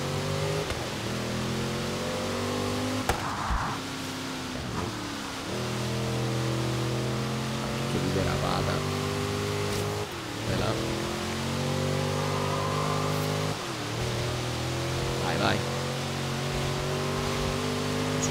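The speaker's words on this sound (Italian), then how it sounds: "Si sente l'auto che va a destra e sinistra con poco controllo." Car engine in the Xbox One racing game Forza Horizon 3 revs up and down repeatedly as gears shift, rising whines rhythmically climbing and dropping, loud and close, with brief faint voice underneath.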